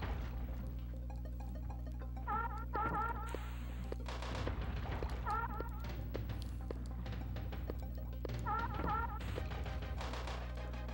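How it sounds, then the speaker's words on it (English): Repeated metallic teeth-clanking effects from the Donkey Kong Country 2 video game, sharp clanks and taps recurring over a steady low game-music bed, with no voices. "Just the teeth clanking."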